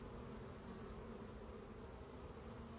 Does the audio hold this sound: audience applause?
no